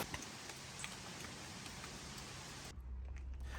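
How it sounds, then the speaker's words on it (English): Steady, heavy rain hisses continuously as a dense downpour, with a brief shift in texture near the end; no voices. "that is quite the downpour."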